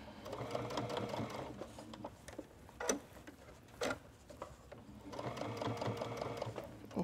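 A sewing machine stitches in reverse around the thumbhole of a sportswear hand warmer, humming in close bursts with rapid ticking and a few sharp clicks between runs.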